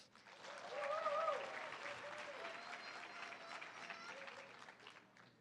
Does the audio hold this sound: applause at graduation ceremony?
yes